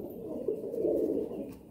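Madrasi pigeons in a loft give a soft, continuous low cooing, close and steady, with a slight swell partway through and no talk over it.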